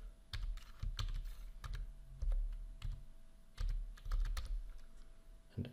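Keys clatter on a computer keyboard as a password is entered, a quick irregular run of close, soft taps with short pauses between bursts and no voices.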